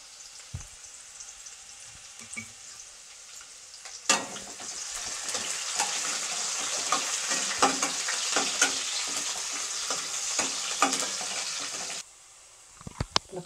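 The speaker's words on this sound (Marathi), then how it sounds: "कांदा परतून घेते आता." Chopped onions sizzle and crackle in a hot kadhai with bay leaf for a village-style kala mutton curry, starting after a few quiet seconds and holding as a loud, steady fry with stirring scrapes before cutting off abruptly.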